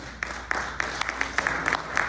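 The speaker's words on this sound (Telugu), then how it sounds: "ఒకసారి can we clap for brother please?" An audience at a church revival meeting claps for a brother, with scattered sharp claps and a sustained patter of applause.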